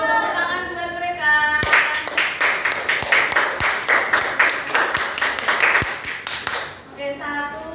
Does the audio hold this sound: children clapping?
yes